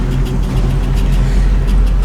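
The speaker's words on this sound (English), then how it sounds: "350 crate engine with headers." A 1981 Chevrolet Camaro with a 350 crate engine and headers idles steadily, its deep rumble loud and close with a slight lope and no pauses.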